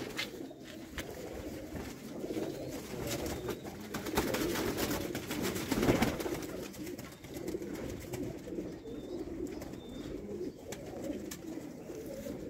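Rooftop pigeons cooing repeatedly in soft, overlapping rolling calls, fairly close and steady, with a low ambient rumble underneath and no talking.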